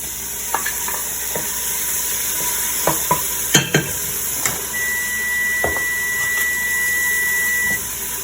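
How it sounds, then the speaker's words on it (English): Tomatoes go into a pan of sizzling vegetables and garlic: a steady, close frying hiss with scattered sharp clicks and knocks of stirring, and no voices. "I'm going to add the tomatoes."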